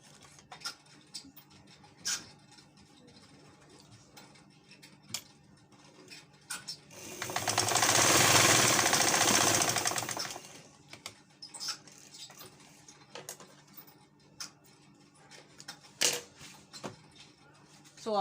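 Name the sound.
sewing machine sealing fabric opening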